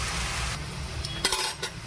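Capsicum, carrot and chopped green chili frying in a pan with salt, a steady soft sizzle under a few sharp clinks and scrapes of a spoon stirring against the metal.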